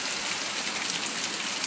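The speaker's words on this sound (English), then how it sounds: "It is 7 o'clock p.m. and it is still pouring down rain." Heavy rain pours down in a dense, steady hiss without letup during an evening downpour, with many drops spattering nearby surfaces.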